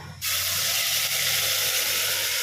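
A wet ground paste of tomato, onion, cashew, coconut and poppy seeds hits a hot pan, setting off a sudden loud, broad sizzle that holds steady and close without easing.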